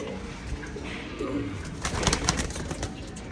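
Pigeons coo softly at close range before being released to fly, low throaty calls over a busy outdoor background with faint movement and light voices in the mix.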